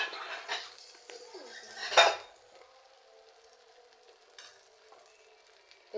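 Raw rice for pulao frying in a pan while a utensil stirs it, with clinking metal scrapes and a sharp clatter midway, then a quieter, steady sizzle.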